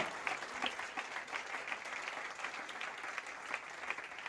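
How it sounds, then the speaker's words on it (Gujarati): An audience at a Swaminarayan temple festival gathering claps with raised hands, a steady wash of many hands applauding together, somewhat distant and moderately quiet, sustained for several seconds. "વાહ ભાઈ તાળી પાડો હાથ ઊંચા કરીને"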